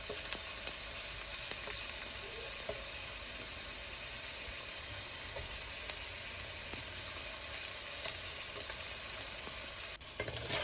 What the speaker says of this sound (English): give that a nice stir around, scraping up those pieces on the ends and edges